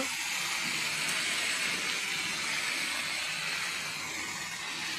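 Spinach added to a hot pan and stirred while cooking a Bengali vegetarian spinach dish, a steady, loud, broadband sizzle and hiss with no break.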